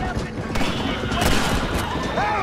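Gunfire in the Western video game Red Dead Redemption, a rapid cluster of sharp shots and impacts over a dense, noisy game soundscape, loud and close.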